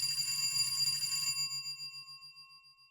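An old-fashioned twist doorbell rings with a bright metallic jangle that stops abruptly, leaving a long, clear ring that fades away alone.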